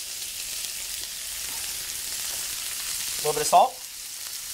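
Garlic and bruschetta ingredients fry in a pan with a steady, close sizzle that continues throughout, while a voice speaks briefly near the end.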